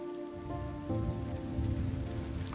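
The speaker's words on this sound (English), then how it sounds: "let's wait out the rain in the booth." Steady rain falls over a road scene in the video game Road 96, a continuous even patter mixed with a low tonal music bed, holding at a moderate level throughout with no voices.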